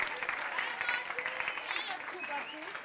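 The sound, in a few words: audience applause for students at science talk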